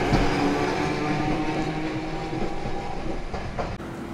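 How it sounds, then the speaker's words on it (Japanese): A Hiroshima Electric Railway tram, a former Kyoto city tram type 1900, rolls along the street with a steady clattering rumble and wheel noise, close and continuous throughout. "の元京都市電の1900型でいいのかな、この車はね非常になんか評判がいいらしく"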